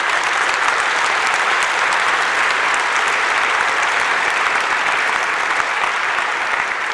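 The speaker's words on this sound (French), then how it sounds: "on peut l'applaudir" Steady, full applause from a ceremony audience at the Société de Géographie's bicentenary, clapping for a young student, an even wash of hands with no break and no talking.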